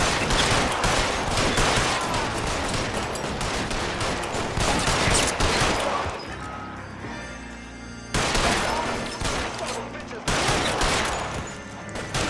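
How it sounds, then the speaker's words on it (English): Heavy gunfire from a shootout in the video game L.A. Noire, dense rapid bursts of shots with brief lulls, loud and close, with faint talk mixed in. "Shoot a total of 100 bad guys."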